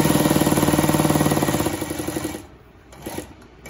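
A Consew 146 zig-zag walking-foot sewing machine, new and barely broken in, runs with a steady, rapid mechanical chatter for about two and a half seconds, then stops, leaving only faint clicks and handling noise.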